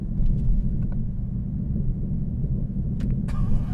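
A Mercedes C63 AMG Black Series engine roars with a deep, continuous rumble close by, with a few brief clicks on top.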